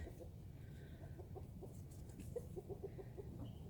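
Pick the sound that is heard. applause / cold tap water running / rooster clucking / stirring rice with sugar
rooster clucking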